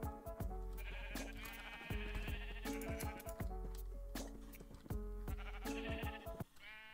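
Minecraft sheep bleat over and over in a regular, repeating rhythm, each game-style bleat clear and close, with no talking.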